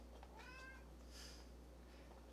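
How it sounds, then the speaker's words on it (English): A house cat gives a short, quiet meow, followed by a brief higher chirp, in an otherwise calm room with a low steady hum. "Kitty saying hi."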